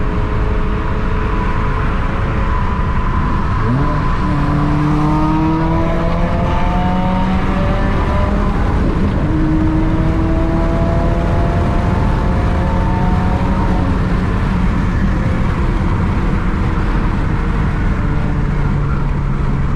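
A 2017 Subaru WRX engine with a fresh turbo drones loudly from inside the cabin, rising in pitch as it accelerates through gears with a steady whooshing turbo whine.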